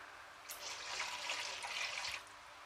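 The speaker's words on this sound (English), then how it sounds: "I'm going to put in around about 900 ml or a litre of very, very fresh coconut milk" Very fresh coconut milk pours steadily into a pan for a Thai green curry, a soft, continuous liquid splash lasting under two seconds, fairly faint, with no talking.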